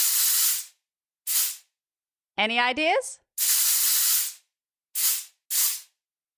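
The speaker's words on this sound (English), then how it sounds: "If you said any sort of spray, like a spray bottle, a bug insect repellent, or deodorant spray, I'll accept it." Aerosol spray, like a spray bottle, insect repellent or deodorant, gives several sharp hissing bursts of varying length, loud and close, with a brief spoken question between them.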